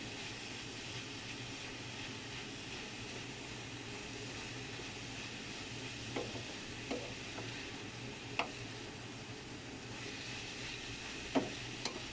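Bitter melon (amplaya) being stir-fried with oyster sauce in a home kitchen, a soft steady sizzle with a few faint clinks and scrapes of the utensil against the pan.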